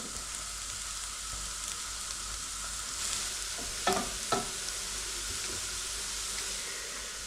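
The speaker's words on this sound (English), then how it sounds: "tamarind paste over here a bit of a stir" Tamarind paste sizzles steadily in a pan for a Kerala fish curry, with a couple of sharper stirring scrapes near the middle and no talking.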